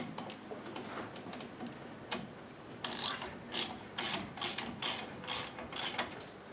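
A hand ratchet loosens the brake caliper slider bolts on a 2004 GMC Sierra 1500 with worn brakes, giving a close run of quick mechanical clicks that turns into louder, evenly spaced bursts of ratcheting in the second half.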